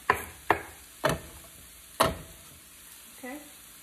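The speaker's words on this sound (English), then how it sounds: "So we're gonna put in our mushrooms, bell peppers, and onions to the skillet. And some olive oil, we're frying it, sauteing it in olive oil." Mushrooms, bell peppers and onions sauté in olive oil in a skillet, giving a low sizzle broken by four sharp utensil knocks against the pan, followed by a brief murmur near the end.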